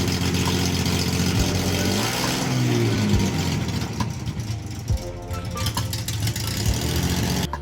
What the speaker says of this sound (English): for the very first time, the car moved under its own power